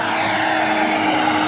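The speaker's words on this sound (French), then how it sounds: "vous entendez le bruit typique d'une turbine" Steady, loud turbine whine and roar from a turboprop seaplane engine, a continuous even drone with no pauses.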